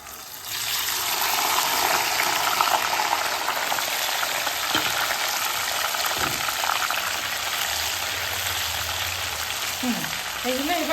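Hand-pressed chicken pakoras go back into hot oil for a second deep fry, giving a loud, dense, continuous bubbling sizzle that holds steady from start to finish with no speech.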